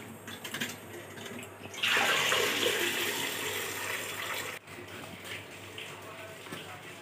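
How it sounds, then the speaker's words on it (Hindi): Kochu (taro) is washed in water in a home kitchen: running water splashes and gushes loudly in the middle, with quieter trickling and handling before and after. "देखिए मेरी मम्मी कैसे कोचू धो रही है"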